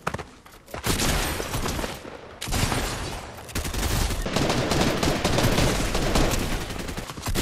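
Rapid bursts of gunfire in the video game Fortnite, Season 5, sound close and loud and run almost without pause, with sustained automatic firing and brief gaps between volleys.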